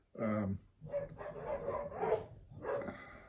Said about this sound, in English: they bark